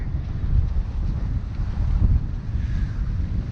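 Steady wind roars across the microphone aboard a Bavaria 41 sailboat on Bjørnafjorden in roughly 20 knots over flat seas, a constant low rushing with faint water noise beneath and no pauses.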